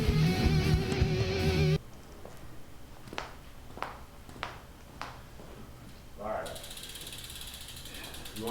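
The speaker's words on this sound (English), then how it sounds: "The free hub sound check of the Hunt 4-season Aero wheels." A bicycle freehub on Hunt 4 Season Aero wheels ticks in brief ratcheting bursts, a series of sharp clicks between stretches of quieter coasting, with louder rushing noise at the start and end.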